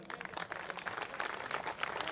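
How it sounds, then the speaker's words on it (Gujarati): Audience applause at a Buddhist community gathering in Gandhinagar: steady, fairly faint clapping from a crowd, continuous throughout with no voices over it. "ખૂબ તાળીઓ થઈ જાય"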